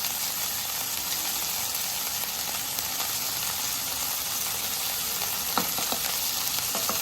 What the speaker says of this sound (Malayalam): ഇനി നമുക്ക് ഇതിലേക്ക് ബട്ടർ ആഡ് ചെയ്ത് കൊടുക്കാം.